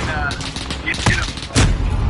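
Gunfire from a shooter video game rings out in a few sharp, close reports, with one heavy burst near the end, under a player's voice talking.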